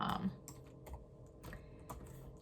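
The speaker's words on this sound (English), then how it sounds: "I have just finished typing in everything I've spent into a calculator" Numbers are keyed into a calculator in a series of quiet, irregular plastic taps and clicks, close by, in a hushed room with no talk.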